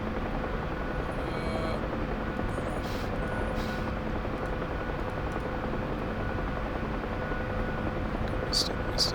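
A Huey helicopter flies low over snow in a video game, its rotor and turbine making a steady, loud, continuous drone with a voice speaking over it.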